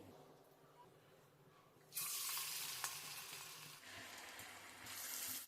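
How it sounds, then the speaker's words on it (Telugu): Aloo punugulu, potato fritters, deep fry in hot oil over a medium flame, a soft background hiss that swells into loud, bright crackling sizzle as batter is added, easing and then rising again. "మీడియం ఫ్లేమ్లో పెట్టుకొని ఇలా గోల్డ్ కలర్ వచ్చే వరకు వేయించుకోవాలి"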